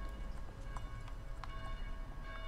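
A bell rings inside the Dead Island video game, with a few faint strikes sitting over a steady, loud mechanical rumble and no talk.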